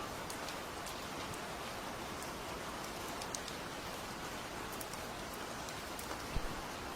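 Steady rain falls on a neighborhood, a dense even hiss with scattered patter of drops continuing unbroken and fairly soft throughout, with no voices.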